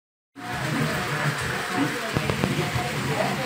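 Heavy rain pours down in Rio Grande do Norte, a dense, steady hiss of drops beginning abruptly and continuing at constant loudness, with a few sharper taps near the end.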